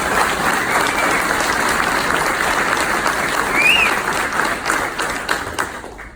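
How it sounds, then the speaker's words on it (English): Sustained applause from an audience honoring veterans, a dense steady clapping crowd that fades slightly near the end. "So let's give them a round of applause."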